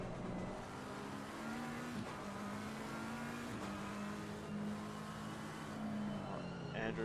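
A GT race car in Assetto Corsa Competizione revving up and down through its gears, a steady engine drone with rising and falling pitch and tire noise, heard alone.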